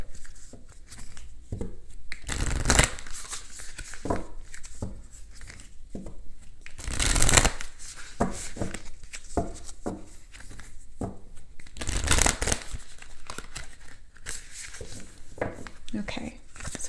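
Moonology oracle cards shuffled by hand in repeated papery riffles and slides, close and fairly loud, with brief bursts of heavier crinkling and tearing-like rustle, no talk during the handling.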